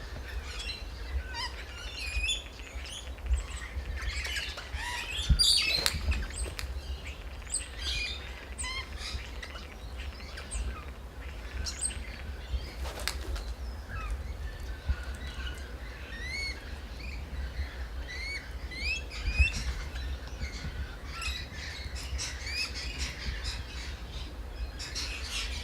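A magpie calls at a bird feeder in Loch Sport with harsh squawks and warbling notes, mixed with other birds chirping, under a low constant background hum; the bursts come irregularly, a couple louder near the middle.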